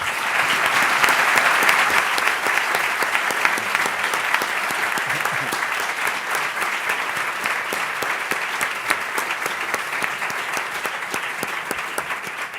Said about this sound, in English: request for him a strong round of applause